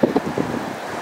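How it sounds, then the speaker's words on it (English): A 15 mph west-southwest wind on a sunny Hatteras Island beach between Avon and Buxton buffets the microphone, a close, loud rumbling gust with low, irregular thumps lasting about a second. "We have a 15 mile per hour west-southwest wind, plenty of sunshine."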